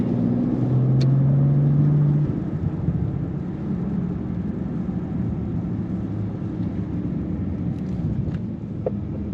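2022 Bentley Continental Speed on a race track, engine note swelling loud in the first couple of seconds as power comes on, then settling into a steady rumble with wind noise from inside the car.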